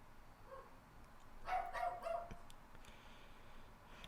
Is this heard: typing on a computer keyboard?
no